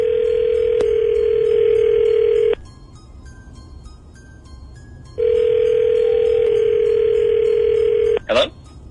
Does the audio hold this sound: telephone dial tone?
yes